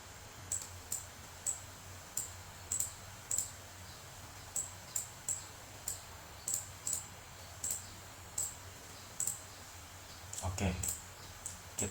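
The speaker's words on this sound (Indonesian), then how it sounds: "Kita akan menguji bagaimana ketika mengetik" Sharp, isolated key clicks from a computer keyboard tap out at an uneven pace over a low hum, followed by a brief burst of rustling near the end.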